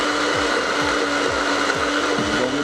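A blender whirring steadily as it mixes ice cream, a loud continuous motor drone with rhythmic low thumps as the contents churn, alone with no talking.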